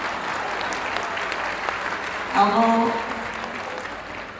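Applause from an audience at a comedian's speech event rolls on steadily at moderate level, with someone briefly speaking and a louder burst of voices over the clapping partway through.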